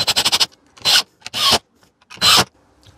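A powered driver sets screws into a wooden block held by a clamp on a reclaimed-timber pallet shed: a fast chattering burst, then three loud rasping, grinding whirs separated by short quiet gaps, close and without voices.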